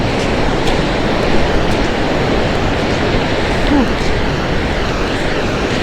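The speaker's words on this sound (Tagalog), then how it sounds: "grabe oh ang laki ng alon" Large sea waves roll and surge around a boat at sea, a loud continuous broadband roar filling the whole clip with no clear pauses.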